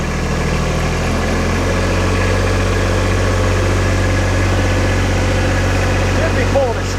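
A four-wheel-drive vehicle's engine turns over and settles into a steady, loud, low idle, running continuously up close with a rumbling drone.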